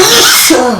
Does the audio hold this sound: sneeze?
yes